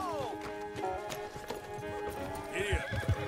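Hoofbeats of a horse in Red Dead Redemption 2 clatter in a quick, steady rhythm, then a loud whinny rises near the end, with a voice briefly heard alongside.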